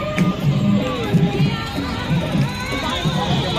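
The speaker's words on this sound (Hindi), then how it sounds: "बहुत सारा भीड़ है, मेला लगा हुआ है।" Steady crowd hubbub at a New Year fair in the park in front of Victoria in Kolkata, with children's voices and indistinct chatter running continuously at moderate loudness.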